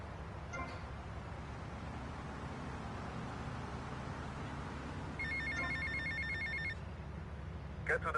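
A payphone rings in the video game GTA Vice City, giving a short burst of electronic trilling over a steady wash of in-game background noise.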